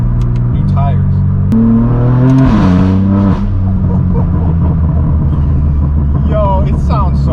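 A BMW F82 M4 engine revs as the car accelerates, a loud close-up drone climbing in pitch through the gears with a brief dip at a shift. People talk over it inside the car.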